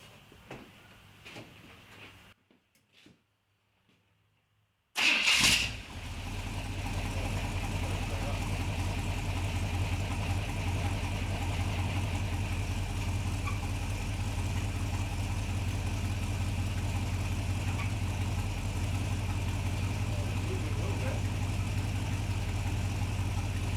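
A Chevrolet C10 pickup truck engine cranks and fires after a few quiet clunks, then settles into a steady, loud, close idle that runs without a break.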